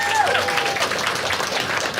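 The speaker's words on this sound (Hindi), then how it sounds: "सब लोग ताली बजा दो" Applause and clapping from the audience at a stand-up comedy show, dense and continuous for the whole stretch, with a voice briefly audible at the start.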